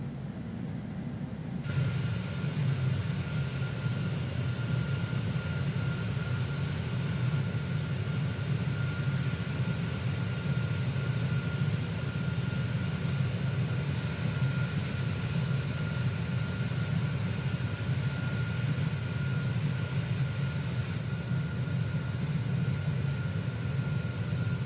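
A Boeing 737-800 in a flight simulator during the landing roll-out, a steady low engine and runway rumble that holds evenly throughout with no speech.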